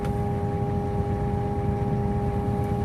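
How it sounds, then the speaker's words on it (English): A Ford Mustang idling in drive, a steady low engine idle with a constant hum and faint tonal drone, unchanging and even throughout, no voices. "this thing sounds pretty good when it's idling in drive"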